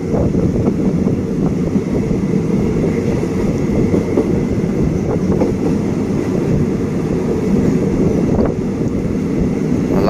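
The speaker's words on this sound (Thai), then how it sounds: "ตอนนี้ขบวนรถกำลังจะเข้าจอดที่ สถานีพิษณุโลกนะครับ" Heard from aboard express train 51, running Bangkok to Chiang Mai, as it pulls into Phitsanulok station: a continuous loud rumble of wheels and carriages, with light rhythmic clicks and wind noise.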